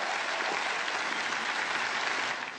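Applause in a French-dubbed film scene from Invasion Los Angeles, a dense, even wash of many hands clapping at moderate level for a couple of seconds before easing off slightly at the close.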